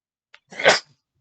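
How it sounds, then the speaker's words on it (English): A single sharp sneeze, close and clear, preceded by a faint intake of breath. "I'm almost about to sneeze."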